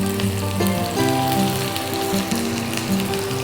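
Onion pieces and curry leaves sauté in hot oil with popped mustard seeds, giving a steady, close, dense sizzle that runs unbroken throughout with no talking.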